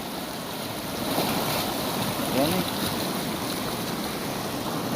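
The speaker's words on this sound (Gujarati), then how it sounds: "આ બંધ ઉપરથી પાણી પડે" Rain-swollen water spills over a dam into a canal, making a continuous broad rushing roar that stays steady and fairly loud, with no voices.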